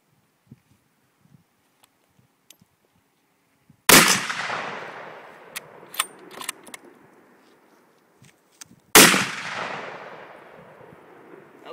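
Two loud, close gunshots from a Tikka 300 WSM rifle a few seconds apart, each a sharp blast that booms and echoes away outdoors, with faint handling clicks between them.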